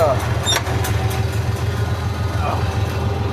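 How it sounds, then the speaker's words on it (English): A Farmall 706 tractor engine runs steadily at a low, even idle-like drone, loud and close throughout, with no talk over it. "this tractor don't shift very nice, so it's pretty easy to drive"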